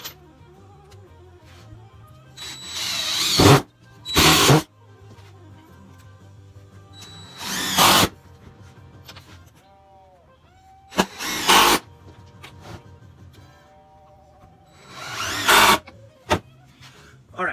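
A power drill drives 3-inch screws into wood for a garden bed leg frame, giving five or six short, loud whirring bursts spaced several seconds apart with quieter handling sounds between them.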